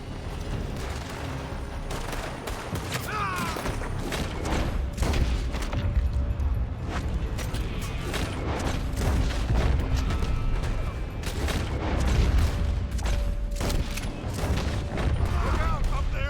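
Gunfire erupts from a building in Red Dead Redemption 2, with dense, overlapping shots and bursts crackling steadily throughout over a busy game soundscape, while a voice speaks at times.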